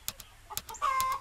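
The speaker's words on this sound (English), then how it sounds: "The ghost of a chicken." Ghost chicken clucking in the New Dawn game, several short clucks followed by a drawn-out squawk, close and fairly clear with no speech.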